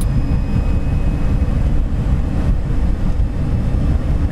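Loud, steady low drone of a 1972 Volkswagen pickup engine cruising in third gear, with dense rumble and wind buffeting continuing without a break and no talking.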